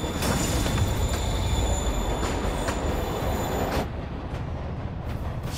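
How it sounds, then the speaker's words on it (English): A train in Marvel's Spider-Man Remastered rumbles and squeals steadily along the rails as it pulls away, loud and continuous with metallic wheel screech, and the noise drops slightly near the end, no talk. "Train moving."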